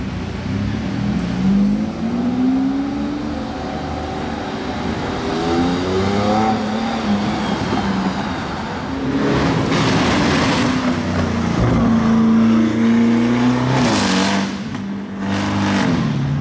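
A Mansory-tuned Lamborghini Urus engine revs repeatedly, with rising and falling pitch sweeps, a deep rumble, and sharp crackling bursts from the exhaust late in the run.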